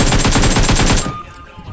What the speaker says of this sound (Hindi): तभी मुझे पीछे से कुछ गन फाइट की आवाज़ आया।